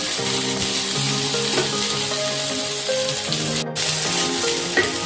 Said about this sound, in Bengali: চালটা সামান্য একটু ভাজবো আমি।